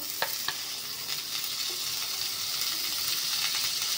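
Butter melts and sizzles on a hot dosa tawa while bread pizza is made at home, giving a steady close frying hiss with a few faint clicks throughout.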